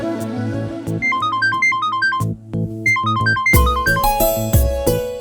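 A phone ringtone for an incoming call plays loud and close, a bright repeating electronic melody with steady rhythmic phrases that brief pauses interrupt, then a fuller second section, with no talk.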